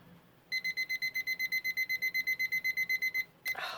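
A kitchen-style timer beeps in a steady run of about twenty quick, evenly spaced electronic beeps, clear and fairly close, then cuts off with a brief rustle.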